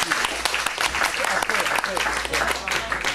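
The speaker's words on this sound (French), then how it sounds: "Donc nous vous demandons d'applaudir" Audience applause at a festive opening-night evening show, dense steady clapping from a crowd with voices mixed in throughout.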